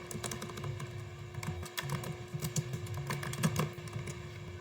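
Typing a command on a computer keyboard while configuring a MikroTik router, steady clicking keystrokes over a constant background hum.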